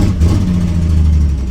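A Nissan Z car's engine running loud and close as it is driven up to the garage, a steady, low-pitched rumble with a slight rise in revs.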